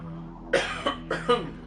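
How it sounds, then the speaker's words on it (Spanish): A man coughs twice in quick succession, each burst a pair of rough, close, fairly loud hacks, with a short pause between the two bursts. "me acabo de toser otra vez"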